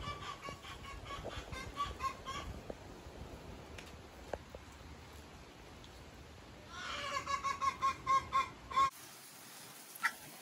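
Backyard chickens give a quick run of clucks near the end, rhythmic and fairly close, after a stretch of quiet outdoor rustling.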